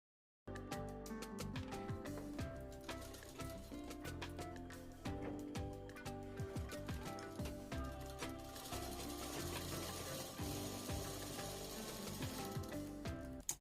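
A sewing machine top-stitches the zipper strip onto the body fabric of a baby suit, running with a steady, close mechanical chatter and brief pauses.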